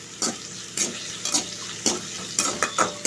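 Onions and tomatoes sizzle steadily in a hot pan while a utensil stirs and scrapes at regular intervals, close up.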